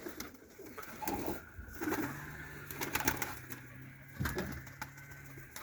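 Pigeons cooing in low, throaty rolling calls, repeated several times at close range over a faint background, no speech.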